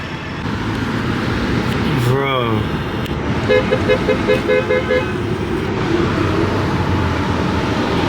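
Traffic at a busy city intersection where a Mercedes has broken down: steady engine rumble, a sliding car horn and a string of short honks, with someone speaking briefly nearby.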